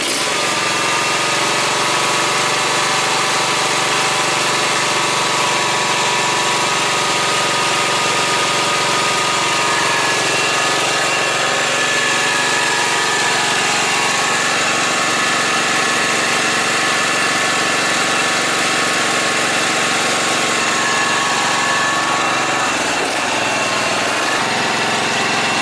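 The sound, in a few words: John Deere Z445 lawn tractor engine idling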